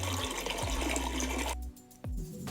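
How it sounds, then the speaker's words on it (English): A household toilet flushing in a home bathroom, a loud rushing gush of water that cuts off abruptly and is followed by a quieter refilling trickle, heard alone with no voices. "correct. Toilet."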